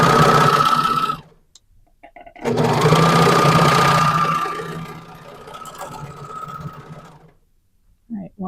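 A sewing machine stitches the inseam of a pair of leggings in two steady runs: a short burst, a pause, then a longer whirring stretch that slows and stops.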